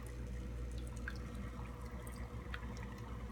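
Steady low water churn and trickle from a new 250 gallon-per-hour pump circulating a 28 gallon nano aquarium, a continuous faint wash with small drips, no talking.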